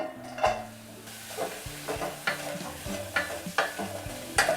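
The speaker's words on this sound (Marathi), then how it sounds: "त्याच्यासाठी मी कांदा परतून घेते" Onion is sautéed in a pan for a stuffed brinjal masala, with repeated scraping strokes of a spatula over a low sizzle and a background tone running underneath.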